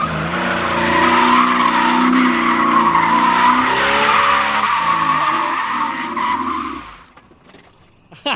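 BMW car accelerating hard in second gear with tires squealing, a loud sustained rising engine roar and screech close by for about seven seconds, then dropping off sharply.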